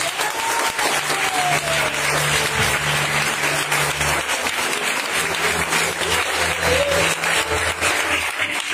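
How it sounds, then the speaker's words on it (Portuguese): A church congregation claps together at a tenth-anniversary service, dense sustained applause filling the room with sustained musical tones underneath, loud and continuous throughout. "Aplauda o nome de Jesus."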